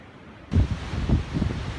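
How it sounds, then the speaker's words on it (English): After a brief quiet start, gusty wind on an Appalachian Trail mountain ridge near Delaware Water Gap suddenly buffets the microphone in low, rumbling bursts that rise and fall. "As you can tell, it's pretty windy up here."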